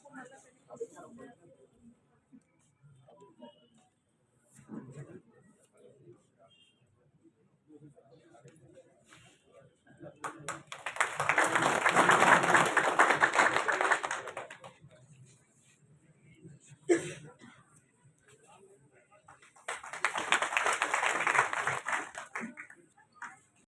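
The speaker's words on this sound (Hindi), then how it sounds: "तालियां बजाने में कोई कमी नहीं रखें" Audience at a workers' gathering in Udaipur claps and applauds in two sustained bursts of several seconds each, with a voice speaking into a microphone during the quieter stretches before and between them.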